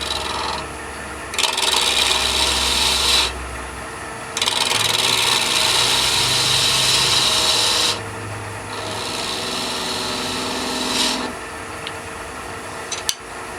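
Light scraping cuts on a wooden finial turning on a lathe, heard as a steady close rasping scrape in several sustained passes separated by short pauses, with the lathe's motor hum running underneath and no talking.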